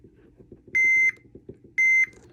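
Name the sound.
multimeter continuity test beep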